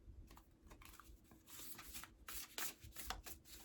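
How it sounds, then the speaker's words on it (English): Deck of flexible, slightly slick matte cardstock oracle cards being shuffled by hand, soft quiet riffling and rubbing with quick bursts of papery flutter, close and without speech. "I can shuffle them really well."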